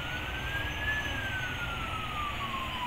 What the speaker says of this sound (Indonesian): Wih, ada ambulan.